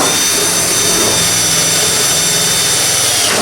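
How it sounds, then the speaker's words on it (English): Power driver running self-tapping number 10 by 3/4 sheet metal screws into ductwork during an air purifier install, a steady loud whirring buzz held close up throughout, with no talking. "So take your driver and a self-tapping sheet metal screw."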